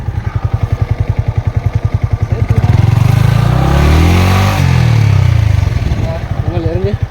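Motorcycle engine revving hard while stuck in mud beside a lake, a steady throb swelling into a loud sustained roar and then easing back to a pulsing idle, close by with voices over it.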